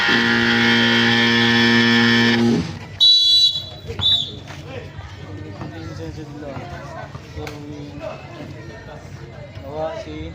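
A loud, sustained electronic buzzer blares for a couple of seconds and cuts off at a basketball game, followed by a busy background of voices and court noise.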